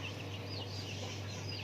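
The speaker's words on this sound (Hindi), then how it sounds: "वो देखें कितना खतरनाक झगड़ेलू मुर्गा।" A fighting rooster in a village clucking steadily and close, with no talk over it.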